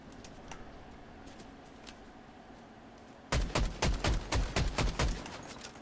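Video game gunfire: faint scattered shots at first, then a close, loud rapid burst of evenly spaced rounds firing in a fast rhythm before easing slightly at the end.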